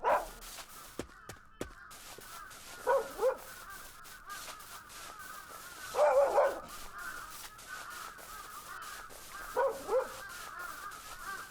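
A dog barking in a Korean horror video game, short clusters of barks that come back every few seconds, fairly close, with quiet game ambience between them.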